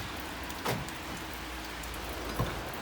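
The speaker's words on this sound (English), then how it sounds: "it's pouring down with rain" Heavy rain pouring down outside during work on a 1998 Ford Transit, a steady wash of dense rainfall hiss heard close, with two faint brief knocks and no talking.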